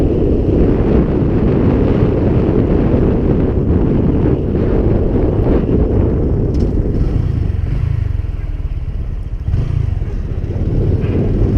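A 2018 Honda Grom motorcycle out riding, heavy wind buffeting the microphone throughout and largely burying a low, steady engine drone, with no talking.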